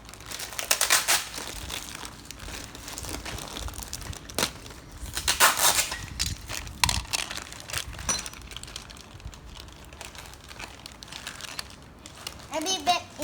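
Crinkly plastic rustles as a Beyblade sticker is peeled off its backing and pressed onto the top's parts, coming in irregular close bursts with brief soft murmuring between them.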